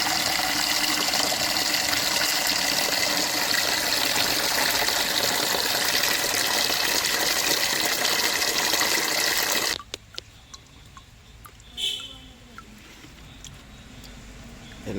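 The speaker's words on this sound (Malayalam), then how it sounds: "കുറച്ച് ബക്കറ്റിൽ വെള്ളം നിറയ്ക്കാൻ കഴിച്ചു." Water pours into a bucket being filled for holding guppy fish, a loud, steady gushing rush that runs for about ten seconds, then stops abruptly and leaves near quiet.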